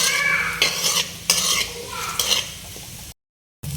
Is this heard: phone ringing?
no